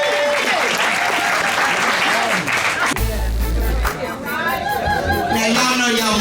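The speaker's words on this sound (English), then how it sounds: "Let's clap for Auntie Pam." An audience at a comedy fest breaks into loud, sustained applause for a comedian named Auntie Pam, with chuckles and chatter mixed in. Someone speaks briefly over the clapping partway through.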